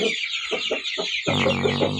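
Two-week-old chicks in a poultry shed with a starter-feed feeder peep constantly in a dense, high-pitched chorus. Short lower clucks break in early, then a fuller, louder burst of cheeping takes over.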